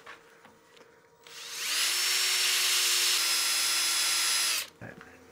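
Sandpaper rubbing a wood piece turning on a lathe, a steady hissing whir that swells in at about two seconds, holds evenly and cuts off near the end, with faint motor hum before and after.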